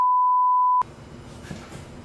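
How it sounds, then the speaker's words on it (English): A single steady electronic beep tone sounds loud and clean for under a second, then cuts off abruptly into quiet room noise. "Where's that beep coming from?"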